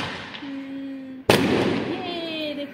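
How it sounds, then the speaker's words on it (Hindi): Diwali firecrackers burst overhead with one sharp, loud crack followed by a rumbling tail, while faint tonal whistles of rising or falling rockets sound before and after it. "ऊपर में पटाखे पटाखे जल रहे हैं"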